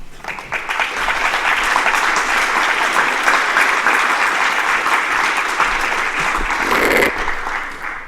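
Loud, sustained applause from an audience at an awards ceremony for sustainable drainage, a thick even roar of clapping that holds steady and then tapers near the end.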